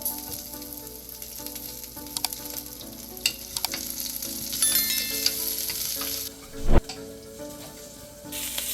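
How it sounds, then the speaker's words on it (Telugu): Green chillies and asafoetida sizzle in a tempering for Andhra chintakay pappu charu: a dense, continuous frying hiss with light clatter, close up, one heavy thump near the end, and no voices. "తాలింపు సామాన్లు వేగినాయి కదా"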